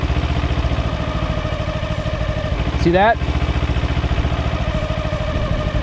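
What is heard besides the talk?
motorcycle engine RPM dropping at friction zone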